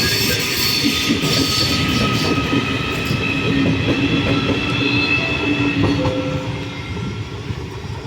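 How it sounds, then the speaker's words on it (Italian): A train passes through a platform at Padova station, a loud sustained rumble of wheels on rails with rhythmic clacking and squealing metallic tones, fading slightly toward the end. "Attenzione, treno in transito al binario 3."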